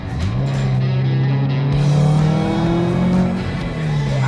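A tuned Subaru STI engine revs hard and loud up close, rising and holding a strained high-rpm pitch with a touch of tire squeal, then easing back near the end.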